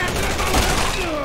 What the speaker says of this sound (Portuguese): Mano, você tá tomando tiro